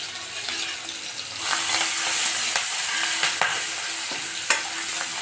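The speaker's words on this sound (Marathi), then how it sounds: "जिरं आपलं तडतडत आहे. आपण टाकणार आहे आता कढीपत्ता." Cumin seeds crackling in hot oil as curry leaves go in, giving a continuous bright sizzling hiss scattered with sharp pops and crackles that grows slightly louder partway through, close by and without speech.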